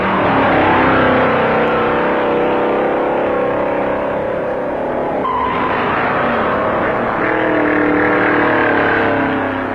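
Loud roar of 1957 stock cars racing on the Daytona beach course, with Owens' Pontiac chasing the leader; engines drone and shift pitch continuously, one car surging past midway, with no talk over the din.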